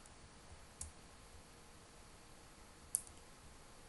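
A computer mouse clicks twice, sharp and isolated, while working in a SQL Server query builder, with near silence between the clicks.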